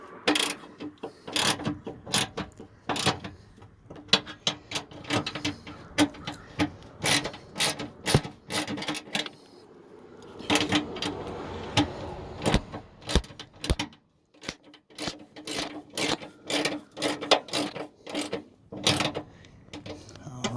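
Hand ratchet tightening a bolt on a BMW E36 fender, a close, steady series of sharp clicking bursts with short pauses between runs, and no talking over it.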